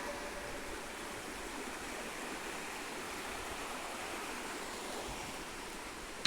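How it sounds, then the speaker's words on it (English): Water from a stream flows at the Monk's Well with a steady, unbroken rushing wash that stays even and fairly close throughout, with no voices. "I don't actually know where this water comes from."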